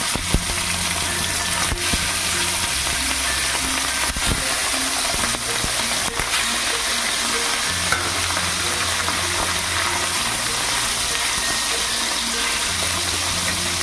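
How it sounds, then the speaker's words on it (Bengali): Katla fish pieces sizzle in hot oil on a lowered gas flame, giving a loud, continuous frying hiss close up, with a faint low hum beneath and no speech. "তেলটা ভালো করে গরম হয়ে গেছে, এবার আমি গ্যাসটাকে কমিয়ে দিয়ে মাছের পেটিগুলোকে দিয়ে দেবো"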